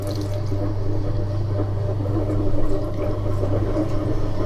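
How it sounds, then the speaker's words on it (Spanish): Water drawn out from inside a closed clay form on a spinning pottery wheel, a loud close liquid slurping and gurgling over the steady low hum of the wheel motor. "sacamos el agua de adentro."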